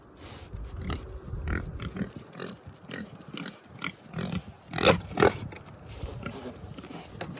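Pigs on a British smallholding grunt and snuffle while eating strawberries, a close, busy run of irregular oinks and snorts with wet chewing, no voices over them.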